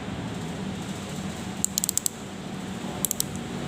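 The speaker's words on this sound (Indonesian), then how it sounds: "Nah, sampai bunyi 3 kali seperti ini." Ratchet thimble of an outside micrometer clicking three times as it is turned during calibration, small sharp metallic ticks close up over a steady background hiss, no talking.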